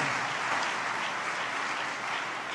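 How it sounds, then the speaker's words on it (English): A convention audience at a National Religious Broadcasters gathering applauds in a steady, dense wash of clapping that holds evenly from start to finish, moderately distant and without any voices over it. "So please give yourselves a round of applause for the difference that you make in the lives of the American people."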